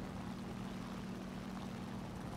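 Propeller plane coming in to land in War Thunder, a steady droning engine hum with a low tonal buzz, constant and fairly close, with no talking.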